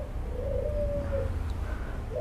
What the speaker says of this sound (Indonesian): Oh, dengar burungnya,